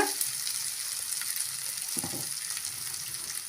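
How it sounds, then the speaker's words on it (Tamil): Chilli powder masala sautéing in a pan for broccoli poriyal gives a faint, steady sizzle, with a brief louder stir or scrape near the middle. "மிளகாய் தூளோட பச்சை வாசனை போகிற வரைக்கும் வதக்கி விட்டுக்கலாம்"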